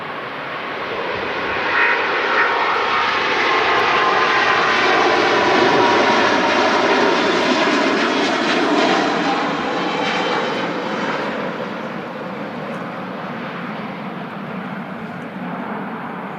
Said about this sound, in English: What a sound. The Singapore A350.